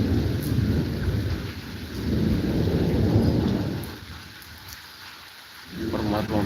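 Heavy rain and hail pounding down during a thunderstorm, with rolling rumbles of thunder; a dense, loud roar that eases briefly near the end before surging back.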